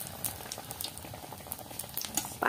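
Pitha cakes frying in hot oil in a home kitchen, with a steady bubbling sizzle and scattered crackles, and a louder burst of spattering at the end. No one talks over it.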